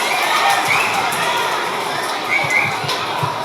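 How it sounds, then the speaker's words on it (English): Students at a school Student of the Month assembly cheer their November winners and their class, with loud, continuous crowd noise of excited children's shouts and cheers and scattered clapping underneath. "Let's have one more round of applause for our November winners"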